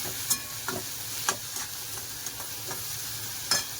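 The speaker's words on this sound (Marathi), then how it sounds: "चांगला टोमॅटो शिजून घेऊया" Chopped tomatoes cooking in a pan with a little salt while making upma, a soft steady sizzle broken by periodic light scrapes and taps of a spoon.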